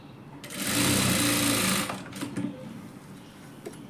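A sewing machine runs in one quick burst as it stitches a dart on a princess-cut blouse, a close, loud whirring rattle lasting about a second and a half, followed by a few soft handling clicks.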